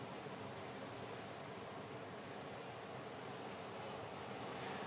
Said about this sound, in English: the waves here are very, very loud